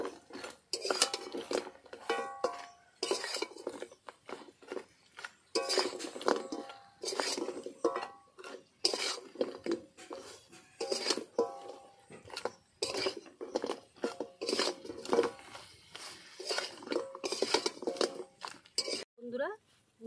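A metal spatula stirs sugar syrup in a kadai on a stove, giving repeated close scrapes and clinks in an irregular rhythm, with a voice heard in the background.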